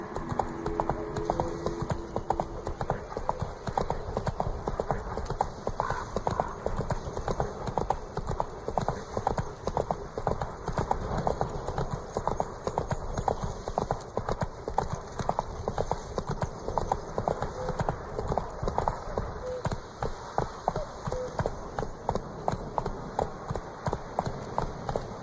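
Roach, a horse in The Witcher 3, gallops with rapid rhythmic hoofbeats that pound steadily and close throughout, over faint ambient background.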